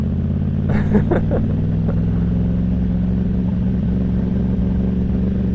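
A 2016 Yamaha R1 sport bike rides along a dirt road, its engine a steady low drone with a few brief clattering bursts early on, loud and continuous throughout.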